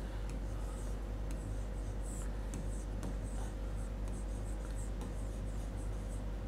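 Marker writing on a board during a live lesson: a steady scratchy rubbing of strokes with small taps, moderately quiet under a constant low hum, with no voice.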